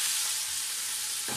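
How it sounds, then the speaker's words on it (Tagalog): Meat dropped into browned garlic and onion frying in a pan, a loud dense sizzle that holds steady, with a low thud of the meat landing near the end. "Ilalagay natin yung ating karne para manunuot talaga yung"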